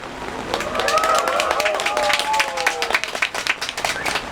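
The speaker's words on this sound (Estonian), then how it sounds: "Aplaus teile." An audience at a speech applauds, with clapping swelling alongside cheering voices, then breaking into scattered, uneven claps as it fades.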